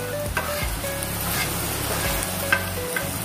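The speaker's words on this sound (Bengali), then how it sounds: "দিয়ে ভালো করে নাড়াবো।" Onion kachori filling with turmeric, sugar and amchur powder being stirred in a hot pan, steady sizzling and frying with scraping stir strokes throughout, no talking.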